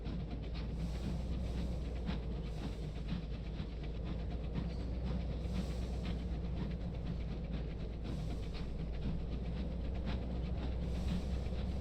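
Locomotive in the video game Sunless Skies running steadily, a dense, continuous rumble with faint rhythmic clatter that stays loud and even throughout, with no talk.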